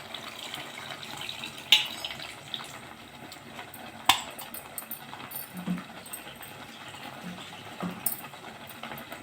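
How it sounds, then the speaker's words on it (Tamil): Tamarind water streams into a cooking pot for a turkey berry tamarind curry, a soft, steady watery pour with a few small clinks of the vessel and no voices. "எவ்வளோக்கு தேவை புளி தண்ணி வேணுமோ அவ்வளோ புளி தண்ணி ஊற்றிக்கலாம்."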